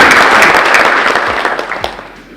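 An audience at a university challenge awarding ceremony breaks into loud, dense applause that gradually thins and fades over a couple of seconds.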